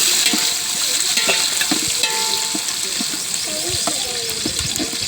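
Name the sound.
Murthy's biryani being stirred and cooked in a pan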